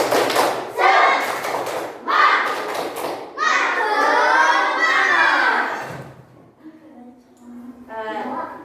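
Elementary school children in an Indonesian classroom do a rhythmic spirit clap, a quick pattern with shouted voices, loud and close, followed by a brief pause and more young voices.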